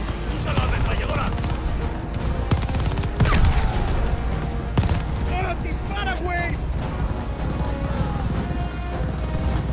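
Machine gun bursts and explosions fill a Call of Duty: Vanguard campaign battle in which an aircraft is present, with dense, loud gunfire and booms running continuously and voices occasionally breaking through.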